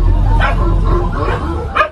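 A dog tied behind a service minibus yips, barks and whimpers in short close bursts over a low background rumble.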